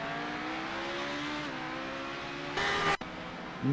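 A race car streams past on the Sebring circuit in an iRacing sportscar event, its engine note sliding in pitch as it goes by, followed by a brief burst of louder broadband noise and another engine rising at the end.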